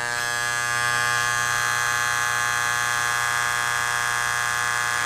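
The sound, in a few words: Wahl hair clipper noise after turning power screw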